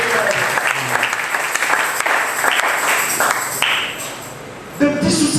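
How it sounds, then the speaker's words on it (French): A church congregation applauds during a French-language sermon, a dense, sustained wash of clapping hands from many people that carries on for several seconds without speech. "Applaudissez pour le Seigneur."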